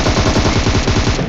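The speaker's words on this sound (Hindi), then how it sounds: "सब फायरिंग हो रही थी" Rapid automatic gunfire in the battle royale video game PUBG, a loud, close, continuous burst of evenly spaced shots with no talking over it.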